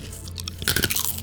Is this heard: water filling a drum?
no